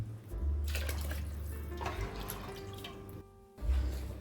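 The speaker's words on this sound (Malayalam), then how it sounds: "നല്ല തിളച്ച വെള്ളമാണ് ഒഴിക്കേണ്ടത്." Boiling water is poured into rice in a pot for beef biryani, making a splashing, gurgling liquid sound with low rumbling pouring that stops briefly and then resumes; no voices.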